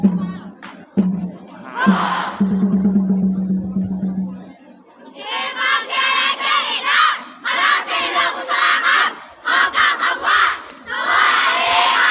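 At a school sports-day stand for the yellow team, an announcer speaks over a loudspeaker, then the crowd bursts into loud, repeated cheers and shouts in waves, with pauses between.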